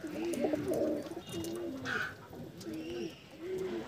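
Desi pigeons in a loft coo softly in repeated rolling, throaty phrases, several calls overlapping at close range with faint background noise.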